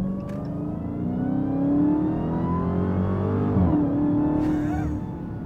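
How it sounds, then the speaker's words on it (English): Supercharged HEMI V8 of a Dodge Charger Hellcat King Daytona revs up loudly with a rising blower whine and layered engine overtones, dipping briefly before climbing again, heard close with no voices. "The supercharger whine, the overtones of HEMI V8, and then just on the tail end of that, the actual speed"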